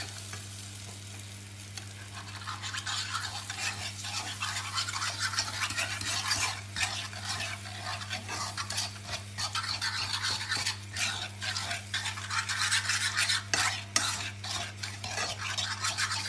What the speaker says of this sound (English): And let's put the egg in the pan. And let's start to cook the omelette.